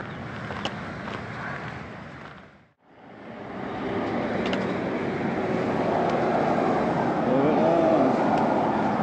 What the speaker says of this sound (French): Ah, les camions, c'est camion sur camion quoi.